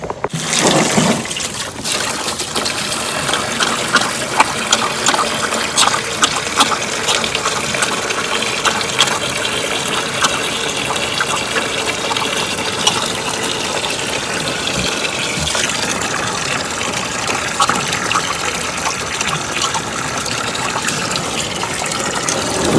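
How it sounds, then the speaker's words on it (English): Water gushes steadily from a hose, filling a water container for pigs on a farm, a loud, continuous rushing stream with no pauses. "All I gotta do is turn the water on."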